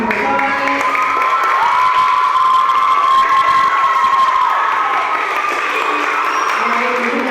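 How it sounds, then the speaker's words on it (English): A school auditorium audience gives steady applause and scattered cheers for band students at a spring band and orchestra concert, with a whistle or sustained tone and crowd noise running through the clapping. "let's give them one more round of applause"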